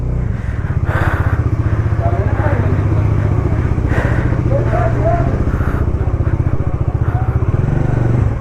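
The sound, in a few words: motorcycle riding on Srinagar to Sonamarg road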